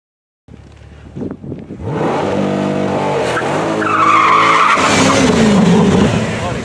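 A C8 Corvette launches down a quarter-mile drag strip with tires smoking, a loud screeching tire squeal and rising engine roar that builds and sustains close by, preceded by brief faint voices.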